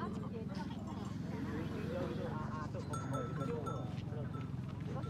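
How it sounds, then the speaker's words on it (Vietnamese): Goats at a busy mountain livestock market in the Northwest Vietnam highlands, with many large bucks, heard as a dense crowd murmur with occasional faint bleats and animal shuffling under a Vietnamese voice speaking throughout. "Và tuần này thì nhiều con dê đực và nhiều con dê to."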